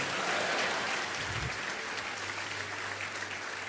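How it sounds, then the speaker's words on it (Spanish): A church congregation applauds for Christ during a sermon, a steady wash of many hands clapping with no speech over it. "¿Habrá alguien que aplauda a Cristo,"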